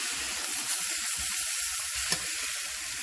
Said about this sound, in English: Now we're going to start frying.